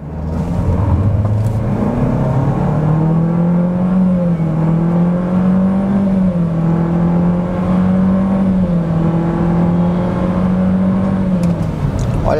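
A Renault Captur compact SUV launches from a standstill on a test track and accelerates hard, its engine note climbing steadily and loud through the gears, heard up close with no talking.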